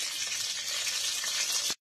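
Bori lentil dumplings fry in hot oil in a Bengali kitchen, giving a loud, continuous bright sizzle with faint stirring that cuts off abruptly.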